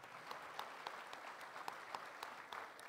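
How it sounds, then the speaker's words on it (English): Steady audience applause at a 2023 gala auction, a faint, even patter of many hands clapping alone, with sharper individual claps standing out. "Let's give them a thunderous round of applause."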